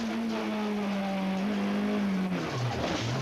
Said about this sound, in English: confronted by a spinning Honda Integra